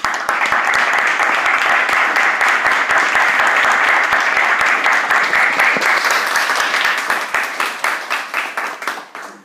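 A crowd at a rally for tuition equity gives loud, dense applause that holds steady for several seconds, then tapers off into scattered individual claps.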